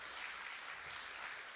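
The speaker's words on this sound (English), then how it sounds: "Let's give ourselves a round of applause." Audience applause at the National Tassa Rama 2022 award ceremony, a prize-giving function: a steady, fairly faint wash of clapping that holds evenly from start to finish.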